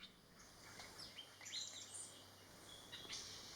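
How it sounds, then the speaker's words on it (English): A golden-fronted leafbird calls in a Thai forest with a few faint, high chirping phrases scattered over quiet background hiss, distant and soft throughout. "This one, the golden fronted leaf bird,"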